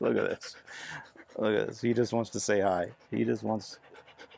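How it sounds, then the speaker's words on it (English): A dog pants rapidly and close by after a walk, its quick breathy rhythm running under and between a person's cheerful talk. "you get a panting mess."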